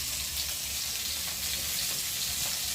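Fish frying in a pan, a steady dense sizzle with a constant hiss and low crackle throughout, close and fairly loud, with no voices.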